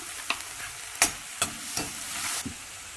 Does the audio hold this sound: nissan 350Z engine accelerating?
no